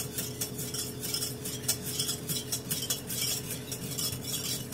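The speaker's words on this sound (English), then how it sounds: "let's stir our sauce a little bit" Homemade enchilada sauce stirred in a pot, a steady wash of close spoon scraping and swishing with quick repeated strokes over a constant low hum, no talking.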